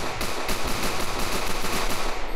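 Rapid automatic gunfire from a gun in the video game Sneak Thief, a loud continuous burst of closely spaced shots lasting a couple of seconds.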